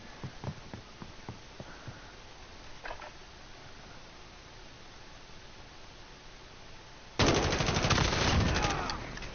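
Gunfire from the Modern Warfare video game crackles in a few faint bursts early on, followed by a sudden loud, sustained wash of noise in the last couple of seconds.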